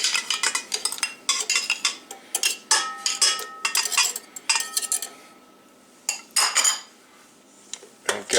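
Butter for raspberry slice cookies dumped into a pot all at once, with repeated clinks and scrapes of a utensil against metal in irregular bursts, close and fairly loud.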